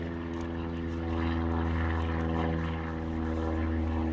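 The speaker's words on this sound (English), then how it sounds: "we have a lovely visiting plane flying over right now" A propeller plane drones overhead, a steady low engine hum with a throbbing tone, fairly faint and continuous without speech.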